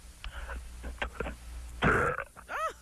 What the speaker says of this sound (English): Let's hear you burp